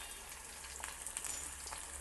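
Lentils crackle as they fry in a hot oil tempering for tamarind-style wood apple rice, a soft steady sizzle with faint scattered pops, quiet and without talk.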